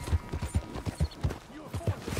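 Horse hooves clip-clop in a steady trotting rhythm in Red Dead Redemption 2, moderately close, with muffled game sounds underneath.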